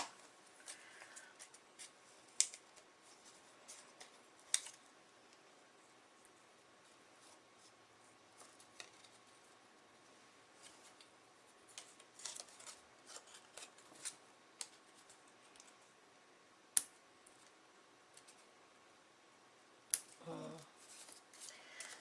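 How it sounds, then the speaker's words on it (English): Scissors snip paper in quick, scattered cuts, close and crisp, with pauses of quiet rustling between the clusters of snips. "Scissors aren't quite small enough."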